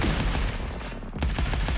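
An assault rifle in the video game Arcadegeddon fires in dense rapid bursts, loud and close, with a brief pause midway before the shooting resumes.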